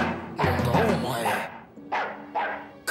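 Dog barking in an animated series about dogs, heard as several loud bursts: a long run of barks first, then two shorter ones, mixed with voices.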